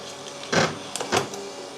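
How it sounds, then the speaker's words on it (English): Electronic cutting machine cutting card stock, with material catching as it cuts: two brief grinding bursts a moment apart over a low background hum, fairly close. "all that noise that it's making is because things are getting caught while it's cutting"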